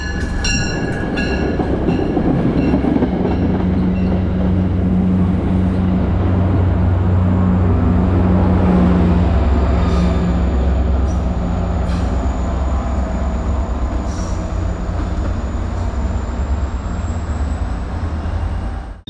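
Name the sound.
Metro North train 6861 departing South Norwalk westbound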